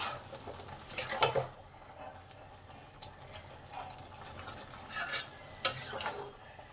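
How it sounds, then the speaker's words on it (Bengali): A spoon stirs and mixes moong dal cooked with bottle-gourd leaves in a pot, producing a few bursts of clinking and scraping against the metal over a quiet background. "এবার সব ভালো করে একটু মিশিয়ে নিই"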